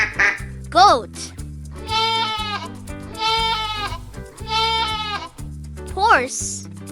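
A goat gives three long, wavering bleats, each quivering and fairly loud, set over a cheerful children's music backing, with a short spoken word before and after.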